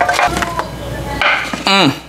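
A cutting board is taken out and handled in a home kitchen, with close clattering knocks and scrapes against pots and utensils, then a brief resonant squeak as it is set down.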